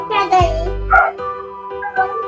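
A dog barks sharply a few times indoors at close range, the loud yips mixed with a voice talking over and between the barks.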